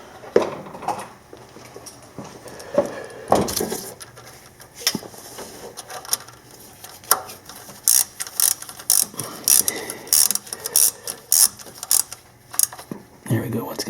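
A ratchet clicks in short bursts while tightening a hose clamp on a 2003 Nissan Maxima during water outlet pipe work, close and intermittent amid other clanks and handling noises.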